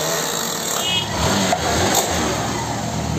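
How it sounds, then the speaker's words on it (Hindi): Hero Super Splendor BS6 motorcycle idling in gear with a chain noise problem, a loud steady mechanical whir and rattle close to the bike, with a few brief louder knocks. "पहले मैं इस बाइक की आवाज़ सुना देता हूँ, गियर डालने के बाद इसको देखना आवाज़ कैसे करती है।"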